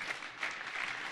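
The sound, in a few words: audience applause at a keynote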